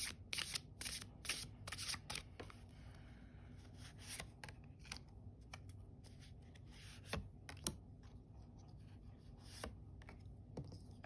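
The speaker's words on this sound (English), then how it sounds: "Okay, one more good shuffle." Oracle cards shuffled by hand in repeated quick riffling bursts, crisp papery flutters and soft rubs, close and fairly quiet with no talking.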